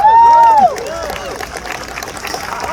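An Earth Day audience gives scattered, fairly light applause for an environmental award winner. A bright whistle opens it, and whoops and voices rise over the clapping.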